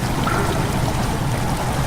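Water sloshes and splashes continuously as a character wades through it in the horror game Amnesia: The Dark Descent, a dense, close, steady swirl with no pauses and no talk.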